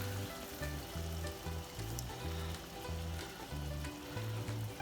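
Shrimp simmer in spicy red diabla sauce for camarones a la diabla, giving a steady, dense sizzle and bubbling throughout, with low rhythmic tones running underneath.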